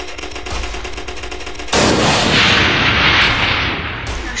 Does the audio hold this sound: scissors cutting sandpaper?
no